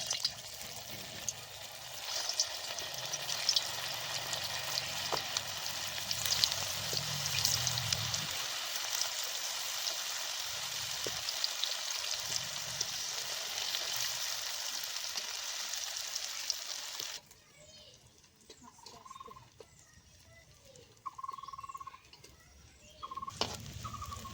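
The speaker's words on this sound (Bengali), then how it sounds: "তেলটা গরম হয়ে গেছে এখন এর মধ্যে এক এক করে পকোড়াগুলো দিয়ে ভেজে নিচ্ছি" Sago pearl pakoras frying in hot oil, a steady hiss like rain that later drops quieter, with a few short tonal beeps near the end.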